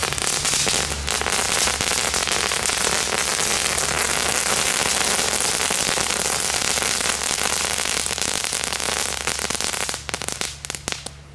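Hema crackling ribbon fireworks burn with a dense, loud, continuous sputtering crackle for about ten seconds, then thin out into scattered pops as they die down.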